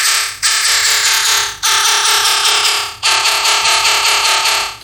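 A synth bass line brightened by a formant shifter plugin plays loud, buzzy sustained notes in three repeating phrases, with a harsh, bright edge.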